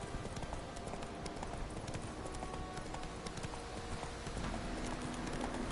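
The horse Roach gallops across open ground in The Witcher 3 with steady, rhythmic hoofbeats that run continuously under ambient game sound, loud and close.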